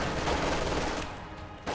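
Rapid machine gun fire from an MG crew in the World War II strategy game Company of Heroes 2, a short dense burst of shots at moderate level that trails off.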